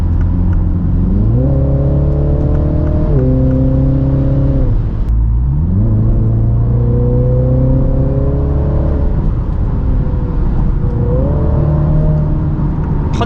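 A Mini Countryman JCW engine revs loudly through several rising and falling pitch sweeps, with a throaty exhaust rumble close by and no talking.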